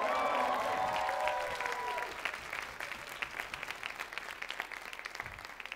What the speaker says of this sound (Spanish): ¡Fuertes aplausos por su originalidad!